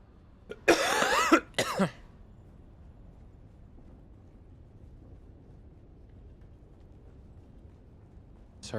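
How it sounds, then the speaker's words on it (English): A person who is sick coughs twice in a quick harsh burst near the start, followed by long quiet room tone and a faint sound at the very end. "Sorry about the coughing, by the way."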